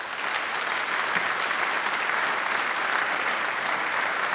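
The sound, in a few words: graduation audience applauding the staff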